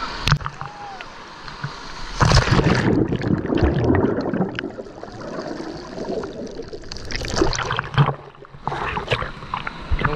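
Ocean waves at the black-sand beach of Étang-Salé surge and wash in broad, rushing bursts, loud and close, with a brief quieter lull between swells.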